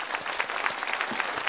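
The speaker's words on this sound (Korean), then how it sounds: "오늘 우리 교회에 처음 오신 새 가족을 박수로 환영하겠습니다." A church congregation claps to welcome new members, a dense, even burst of many hands applauding in a large room, brief and steady with no voices over it.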